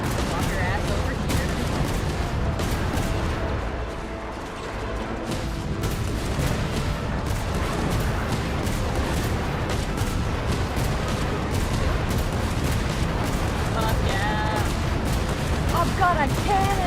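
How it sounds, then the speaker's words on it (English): Rapid cannon fire booms continuously in the Genshin Impact video game, dense and loud over a busy battle soundscape, with voices talking over it. "my cannon fires faster"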